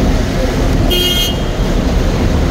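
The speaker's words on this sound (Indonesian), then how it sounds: "Jalan macet juga biasa ya." Dense traffic on a congested Makkah street hums steadily and close by, and a car horn toots once, briefly, in the middle.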